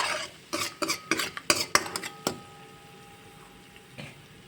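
Spoon stirring a ginger, garlic and chilli paste mixture in a pan while making ragda samosa chaat, a quick run of scraping, clinking strokes up close that stops partway, leaving a faint tone and quiet room.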